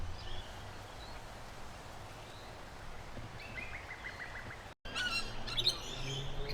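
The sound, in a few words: Murray magpie (magpie-lark) calling at suburban dam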